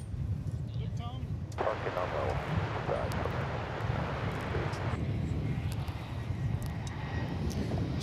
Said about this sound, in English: So here comes the A321 from Phoenix.